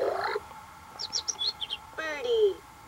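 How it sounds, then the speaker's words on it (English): Two electronic sounds from a VTech Turn and Learn Driver baby toy: a short tone, then a quick run of high bird chirps and tweets, followed by a sliding whistle-like call, close and fairly loud. "Birdie."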